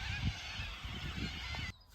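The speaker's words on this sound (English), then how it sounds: "The birds again this evening, they're like in their numbers." A flock of birds honks continuously in the evening over a garden in Australia, many overlapping calls at moderate distance, cutting off near the end.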